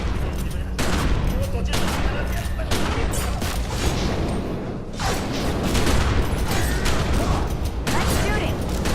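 Gunfire in the video game The Secret World: dense, continuous volleys of shots and booms with mechanical clatter, loud and close throughout, with voices talking over the fighting.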